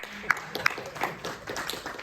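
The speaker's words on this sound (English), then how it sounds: "give them applause." Scattered applause at a school board meeting in a hall, a handful of sharp individual claps near the start swelling into a modest, uneven round from the room, moderately quiet.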